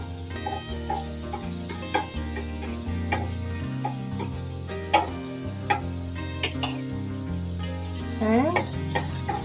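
Veal schnitzels fry in butter in a pan, sizzling steadily with scattered clinks of utensils and scraping throughout.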